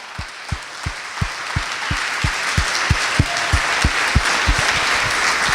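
A church congregation at a family worship service applauds. A bed of mixed clapping rises steadily, with strong rhythmic thumps that sound like a bass drum or stomping beating along underneath. There is no talk.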